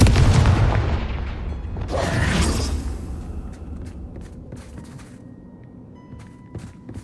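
A Confringo spell explosion in Hogwarts Legacy: a deep booming blast with a second rumbling burst around two seconds in, then a fading tail with scattered small game sounds.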